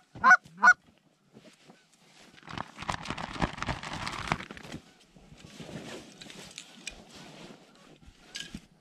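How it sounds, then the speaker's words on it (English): A flight of wild geese over a waterfowl hunting spot honks, two sharp calls first, then a busy overlapping chorus of honks from the flock at a moderate distance. "There's a flight of geese out there."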